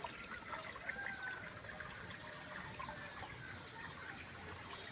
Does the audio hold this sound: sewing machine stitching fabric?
no